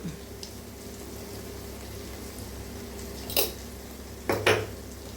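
Spices stirred into an egg and drumstick curry in a pan: a low steady background hiss broken by a few scraping clinks of a spoon against the pan.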